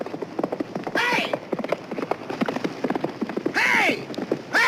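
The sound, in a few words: horse running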